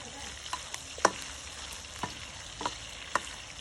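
Pork belly stir-frying with shrimp paste in a pan, with steady sizzle and crackle punctuated by several sharp spatula stirs and clacks at irregular intervals, close and moderately loud.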